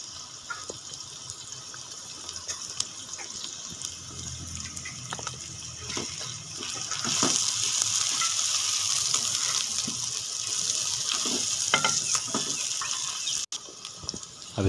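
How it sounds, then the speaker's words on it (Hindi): Finely chopped garlic and ginger paste goes into a hot pan for a sev tamatar curry, and a steady, soft, hissing sizzle swells about halfway through and carries on with no talking. "और उसके साथ बारीक कटी हुई लहसुन, अदरक का पेस्ट, अब ये दोनों चीज़ें इसमें ऐड करेंगे।"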